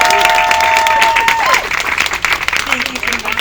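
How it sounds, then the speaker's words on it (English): A New York comedy club crowd breaks into loud, dense applause and cheering, with a whooping voice rising and sliding above the clapping early on and a speaker's voice cutting through near the end. "a big round of applause for Rebecca Trent"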